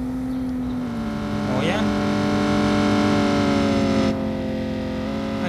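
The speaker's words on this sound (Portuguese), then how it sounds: "GTR passa com som estrodando tudo" A six-cylinder GTR engine roars in a Brazilian classic-car video game, a loud sustained drone that swells in pitch partway through, with someone speaking briefly over it.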